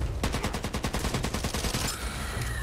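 Rapid automatic gunfire rattles in the Back 4 Blood zombie shooter, a loud close burst of evenly spaced shots for nearly two seconds before cutting off into a quieter tail.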